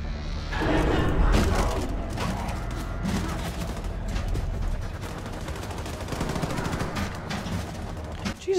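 Gunfire in Wolfenstein 2: The New Colossus, dense loud shots and rattling bursts under busy game ambience and shouting voices, continuing steadily through the span.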